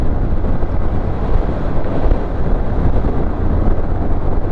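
Wind blows steadily across an open microphone on a new coastal road in Ozamiz, a continuous low, rumbling buffet with no pauses and no voices.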